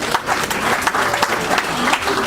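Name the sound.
applause for the speaker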